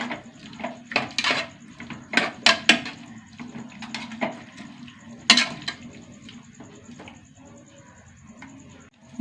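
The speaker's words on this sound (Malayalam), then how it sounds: "ഒന്ന് ഉടച്ചു കൊടുക്കുക ചെറുതായിട്ട്." Pressure-cooked chickpeas are mashed in a pot with a metal utensil, giving irregular clanks and scrapes in uneven bursts, loud near the start and sparser later, with a faint high beeping tone in the background.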